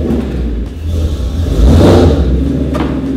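A Ford Mustang's engine revs and roars steadily, swelling louder midway as the car pulls up close onto ramps, with no talking.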